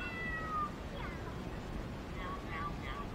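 A person imitates a cat during a family game, giving a couple of short, thin meows, faint over a steady outdoor wind hiss.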